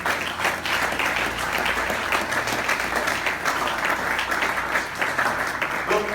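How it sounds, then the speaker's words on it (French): A church congregation breaks into sustained, loud applause, a dense even wash of clapping filling the room for several seconds with faint voices mixed underneath. "Acclamons très fort."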